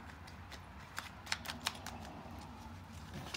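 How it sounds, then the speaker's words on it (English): Tarot cards are shuffled and slid into their box by hand. Soft papery flicks and light snaps come in small irregular clusters, very quiet and close, with no voices. "I'm just kind of like trying to shuffle them into the box as I get through these"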